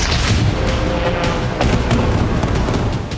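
Explosions from Russian drone strikes on Ukrainian cities: a dense, continuous low rumbling roar with scattered sharp cracks and booms, loud and sustained throughout without voices.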